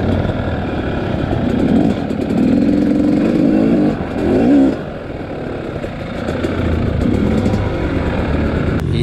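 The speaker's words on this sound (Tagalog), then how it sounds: "Iyakan na ng motor." A motorcycle engine strains and revs hard while climbing a steep uphill road, a loud continuous drone that rises and dips with changing throttle, close by and unaccompanied by voices.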